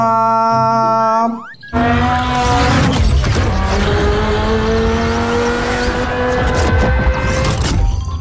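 A toy race car plays its electronic sound effect, a loud revving engine roar with squealing tones, running continuously after a brief musical jingle.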